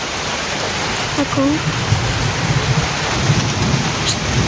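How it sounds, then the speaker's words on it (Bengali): Steady rain hissing down with low rumbles of thunder beneath, and a brief voice murmur partway through. "কাল সকালে আর আর আর সকালে ভিডিও বানাতে দেখো বৃষ্টি হচ্ছে দেখো"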